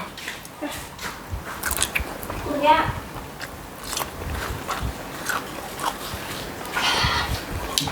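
Someone eating Isan sausage with fresh raw vegetables, with close crunchy bites and wet chewing repeating in irregular bursts, while people talk softly in between.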